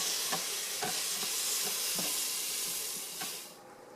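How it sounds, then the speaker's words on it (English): Tomatoes tipped into hot oil coated with spices, a loud close hissing sizzle with rhythmic scrapes of stirring every half second or so, easing off at the very end. "and then I'm adding in the tomato"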